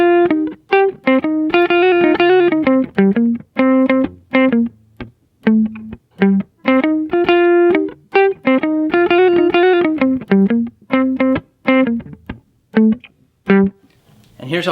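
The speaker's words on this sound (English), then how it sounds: "Here it is with a clean tone." An electric guitar with a single volume knob, two tone knobs and a five-way pickup switch plays a clean-toned riff of short picked notes and brief chords, close and clear, with regular pauses between phrases.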